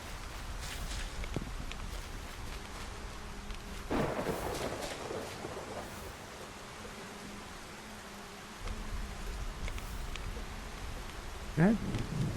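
Thunderstorm in the Solarpunk video game, with broadband rumbling rain and thunder swells, a strong burst around the middle and quieter stretches, plus a brief rising chirp near the end.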